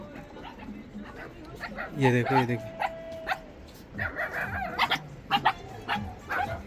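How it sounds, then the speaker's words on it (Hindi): Dogs barking and yipping in short bursts on the snowy Shri Hemkund Sahib trek route, while someone talks over them. "कैसे भौंक रहे हैं, देखो"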